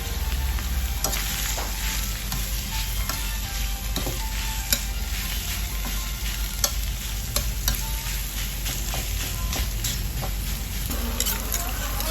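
Food sizzles loudly in a hot pan while being stirred, a continuous crackling fry broken by repeated scraping strokes for about twelve seconds, close and steady.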